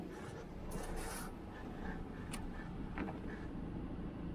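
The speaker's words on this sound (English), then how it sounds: "So that is a clutch release bearing." A worn clutch release bearing in a Chevy gives off a steady, low rasping whir that runs without a break, with faint scraping edges over a constant rumble.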